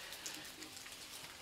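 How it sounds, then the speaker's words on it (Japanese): Gentle, steady rain falling around a roofed outdoor pavilion, a soft, even hiss with faint scattered drips, heard from under shelter with no talking. "しとしと雨が降る中、"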